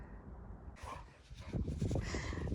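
Dogs snuffling and breathing close by, with short snorts and rustling movement, no clear barking.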